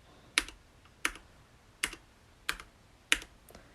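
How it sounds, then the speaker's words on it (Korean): Five separate, evenly spaced keystrokes on a Hansung GK993B mechanical keyboard with Cherry red switches, each a crisp, close clack standing alone against a quiet room. "이 키를 그냥 정말 키보드에 바로 입력을 해주셔서"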